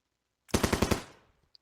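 A short burst of automatic gunfire in the Vietnam-era Marines wargame Lock N' Load Tactical Digital: five or six rapid shots in a tight rhythm, loud and close, ending with a brief decaying tail.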